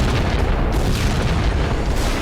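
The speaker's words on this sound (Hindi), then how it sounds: "इजरायल ने खान यूनिस इलाके पर जबरदस्त बमबारी शुरू कर दी है।" A heavy bombing explosion in Khan Younis, Gaza, a loud, dense rumbling boom filling the whole stretch with a continuous low roar and no clear onset or decay.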